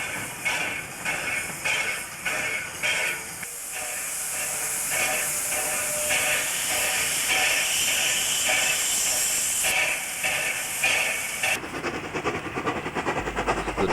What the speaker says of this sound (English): The train then heads back to Cootamundra.